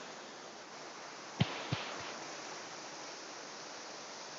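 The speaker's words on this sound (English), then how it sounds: "Absolutely stunning little waterfall this, and if you look up in the distance, it's a 100-foot plus drop." A small waterfall on the Lake District fells near Mellbreak and White Crag gives a steady, soft rushing wash of water, close and even throughout, broken only by a couple of brief knocks.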